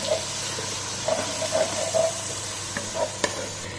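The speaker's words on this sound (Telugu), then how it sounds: "ఇప్పుడు మంచిగా కలిపి ఇది కొంచెంసేపు టమాటోలు ఉడకనిద్దాం." Onions and chopped tomatoes stirred and frying in a pan for fish biryani: a steady close sizzle with soft scraping strokes of the spoon recurring every half second or so.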